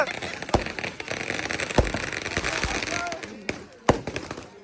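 Diwali firecrackers burst outdoors at a Sikh gurdwara celebration in Italy, with several sharp, loud bangs spaced a second or two apart over a crackling background and people talking nearby.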